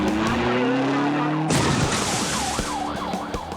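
A stolen car flees a police pursuit in the UK on New Year's Eve. A loud engine roar with skidding gives way to a wailing police siren cycling repeatedly over road noise.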